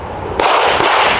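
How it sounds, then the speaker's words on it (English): A Sig P365 X Macro pistol loaded with hollow points fires two sharp shots in quick succession, loud and close, each with a short ringing tail. "Just testing the recoil"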